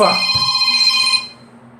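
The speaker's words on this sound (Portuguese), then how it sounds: "meu telefone tocou aqui" A mobile phone ringtone goes off loudly and close during a lecture, sounding as bright sustained tones for about a second before cutting off and leaving a quiet room.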